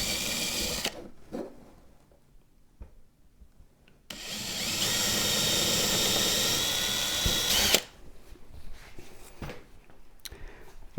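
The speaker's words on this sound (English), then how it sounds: "pre-drilling the hole that's going to be used to attach the cup holder to the wooden support here" A power drill whirs steadily for a few seconds, pre-drilling holes in wood, with quieter handling noises and short clicks before and after.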